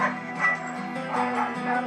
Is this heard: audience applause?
no